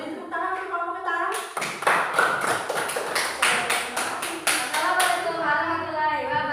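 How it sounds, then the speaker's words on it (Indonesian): An audience claps for the potato group at a group presentation, a burst of scattered hand claps lasting a few seconds, with a voice and lingering tones around it. "Beri tepuk tangan untuk kelompok kentang."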